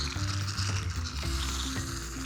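Shaving foam sprays from a can with a continuous, close, hissing sputter over a steady background music bed.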